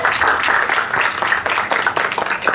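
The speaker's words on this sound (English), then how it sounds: "can you give a big round of applause for your teachers?" Schoolchildren at a Class 8 parent orientation give their teachers a round of applause. The clapping is loud, dense and close, with many hands beating steadily through a short burst and no talk over it.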